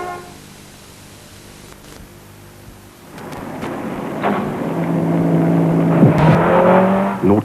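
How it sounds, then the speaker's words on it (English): Vauxhall Astra GTE with a 1800 fuel-injected engine, idling quietly at first, then accelerating hard with a loud rising engine note and a gear change near the end, no voices. "An 1800 fuel-injected engine."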